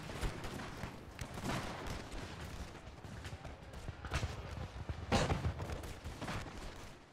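Musket volleys in the Napoleon Total War battle game: distant rolling bursts of massed gunfire overlapping into a continuous rumble, with a few stronger crackling volleys standing out, no talk.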